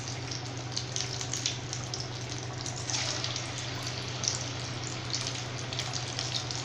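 Aval vadai frying in hot oil on a low flame, a faint continuous bubbling sizzle with a low steady hum underneath, heard alone and at a moderate distance.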